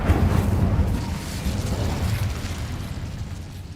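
An Incendio fire spell cast in Hogwarts Legacy bursts with a loud close whoosh and low explosive rumble that slowly fades into a crackling, fluttering tail, with no voices.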